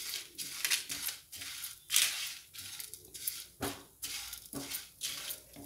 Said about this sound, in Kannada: ಹಾಗೆ ಸ್ವಲ್ಪ ಒಣಕೊಬ್ಬರಿ ಹಾಕೋತಾ ಇದ್ದೀನಿ